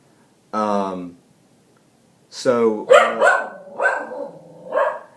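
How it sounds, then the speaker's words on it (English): A dog barks a few times, a short yelping burst followed by more barks, close by and loud, with a voice speaking alongside. "I can't stop him from barking"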